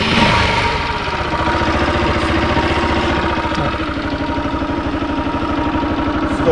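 A Bajaj Pulsar NS 200 motorcycle engine runs at idle, a loud, close, steady mid-pitched thrum with a rapid regular pulse throughout.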